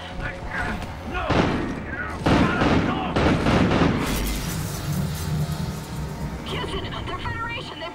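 Loud gunfire and heavy booms from the Call of Duty: Ghosts video game erupt in bursts and rapid volleys, with shouting voices and battle chatter mixed throughout.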